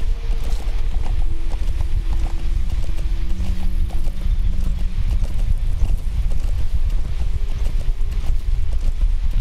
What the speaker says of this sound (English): Just a horse passing through.